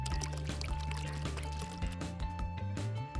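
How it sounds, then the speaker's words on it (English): Orange juice poured over ice into espresso, a steady liquid stream with small clinks and bubbling, close and fairly quiet, alone without talk. "Add ice to espresso and pour in the orange juice."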